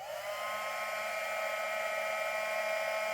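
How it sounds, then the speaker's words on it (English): A heat embossing tool blows hot air to melt embossing powder, making a steady, close whine-and-whoosh like a small hair dryer that holds at one pitch throughout. "It's kind of like a blow dryer, but it doesn't blow nearly as much as a blow dryer, and it does get hotter"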